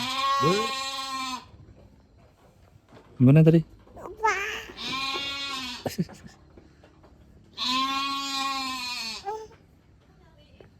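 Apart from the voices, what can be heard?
goats bleating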